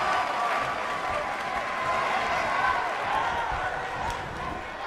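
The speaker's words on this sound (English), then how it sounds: "I don't remember the last time I heard a more passionate crowd than the one we have here tonight" Roaring arena crowd at a WWE 2K22 wrestling pay-per-view, a dense steady wash of cheering and applause that holds loud throughout with a faint commentary voice underneath.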